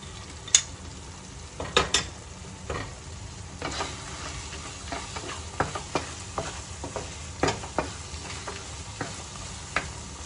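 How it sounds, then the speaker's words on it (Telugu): Cashews are stirred into double ka meetha in a pan, giving a low sizzle under a series of close scraping and clinking strokes from the spoon, repeated irregularly throughout. "ఫైనల్గా జీడిపప్పు వేసేసుకొని కలుపుకోవాలి."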